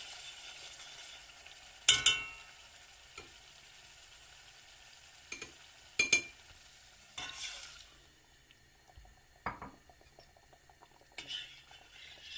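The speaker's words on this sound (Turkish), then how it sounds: "karıştırmaya devam ediyoruz" Flour, diced meat and water get stirred in a soup pot, a low bubbling simmer broken by several sharp spoon-and-pot clanks and scrapes spaced unevenly.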